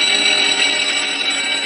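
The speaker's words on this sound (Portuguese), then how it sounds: "Um alarme avisa de um incêndio no porão de carga." A cockpit fire alarm sounds during a cargo hold fire on an airliner, a dense, continuous electronic warning tone that stays loud and steady throughout, with no voices.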